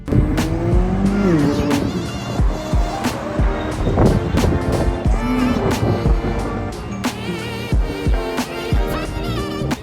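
A supercar is driven hard on the road, its loud engine revving in rising and falling sweeps with tire squeal, continuous and close throughout.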